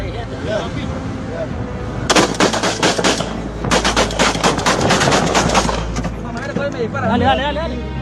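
Rapid bursts of automatic gunfire crack loudly and close in Ecuador, long rattling volleys separated by a brief pause, with shouting voices over the shots and toward the end.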